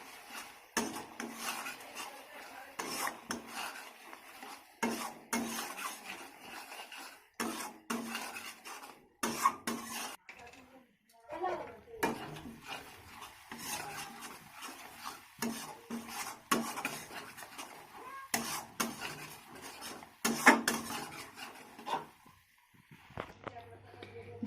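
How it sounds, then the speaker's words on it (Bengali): Spice masala with ground coriander, cumin and chilli powder stirred and sautéed in a pan over a low flame, with repeated scraping clinks of a spoon against metal under steady talking. "আর মশলাটাকে লো ফ্লেমেই কষিয়ে নিতে হবে।"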